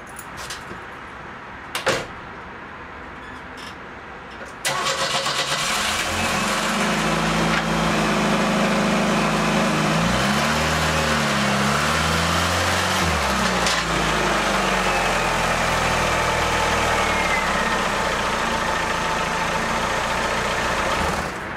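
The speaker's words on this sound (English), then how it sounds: "Now we gotta just back the car up them." A Pontiac Fiero starts and idles after a few quiet clicks, then revs with rising and falling engine tones as it backs up onto ramps for an oil change, loud and close, with no talking.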